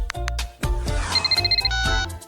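A phone rings as a call is placed, with rapid electronic beeping tones in the middle over a busy, loud bed of layered tonal sounds.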